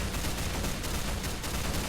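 Dense, rapid bursts of gunfire fill the clip, loud and continuous, like a hectic Minecraft firefight.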